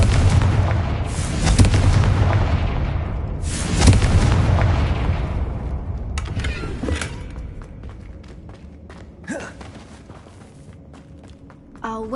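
Booming blasts from the fire-curse spell Confringo in Hogwarts Legacy, one heavy explosion near the start and another around four seconds, fading into rumbling debris and scattered thuds, with sharper bursts later.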